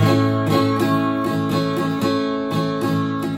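A guitar chord with its high first string muted is strummed over and over in an even rhythm, the notes ringing close and steady.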